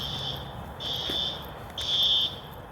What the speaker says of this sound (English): That's like a fire alarm going off, ain't it?